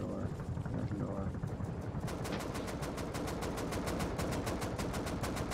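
Rapid automatic gunfire in the video game Rust rattles in a fast, steady stream of shots over a dense, loud background of game noise, with a voice speaking partway through.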